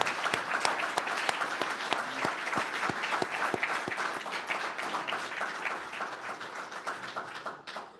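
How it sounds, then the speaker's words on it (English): A veterans education program cohort celebration audience gives sustained applause, a dense even burst of clapping from many hands that holds steady for several seconds before tapering off at the end. "would you please join me in one big round of applause for everybody that just spoke?"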